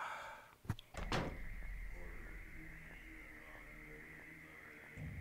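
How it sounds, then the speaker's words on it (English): A door opening in the Silent Hill 3 video game: a couple of heavy clunks and a creak, followed by a low, sustained droning ambience. "We're going through the door."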